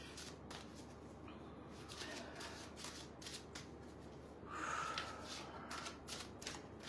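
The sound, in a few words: shuffling playing cards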